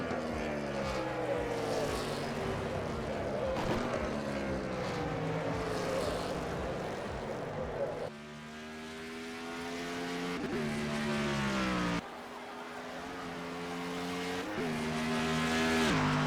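Ed Palumbo's yellow number 54 Chevy race car lapping the Road America circuit on the final lap of a heat race, its engine droning steadily and shifting pitch through gear changes, with other cars passing close by.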